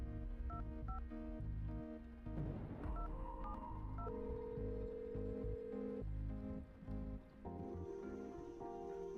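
A phone number is dialed in The Red Strings Club video game: a series of short, evenly paced touch-tone beeps over a steady music bed, followed by a longer sustained tone.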